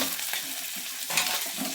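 Fish added to a hot pan for an onion-greens fish curry fry with a bright, steady sizzle, close and continuous, with faint stirring scrapes underneath.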